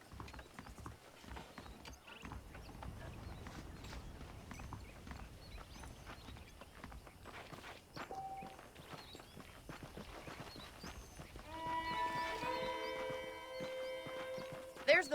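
Horse hooves clip-clop at a walking pace in the Red Dead Redemption video game, steady and moderately close beneath a soft ambient bed, with faint mechanical clinks and a brief tonal game sound near the end.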